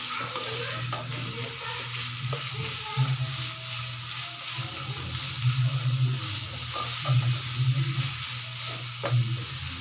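Chopped green chilies stirred into a sizzling vegetable roll filling in a pan, a continuous fry hiss with scattered spoon clinks and scrapes, close and steady throughout.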